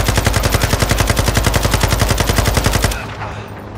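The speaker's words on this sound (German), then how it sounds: "So, da schießen noch welche." Rapid automatic gunfire from the video game Call of Duty Modern Warfare 2 story mode, loud and close, with evenly spaced bursts for about three seconds before cutting off into a quieter rumbling ambience.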